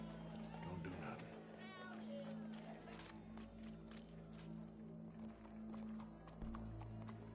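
Horse hooves clip-clop in a video game played on PS4, with a horse snorting and whinnying nearby, while people talk over the top against a low background hum.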